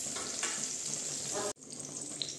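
Garlic and tomatoes frying in a pan make a continuous sizzle with a few stirring scrapes; a sudden cut midway briefly drops it before a quieter crackle resumes, and no one speaks.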